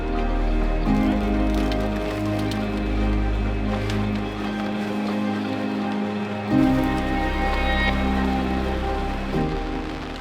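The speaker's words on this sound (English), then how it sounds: "The sound of raindrops falling while we savor the warm meal?" Raindrops falling in the Canadian Rockies make a steady, soft patter throughout, mixed with a low background hum.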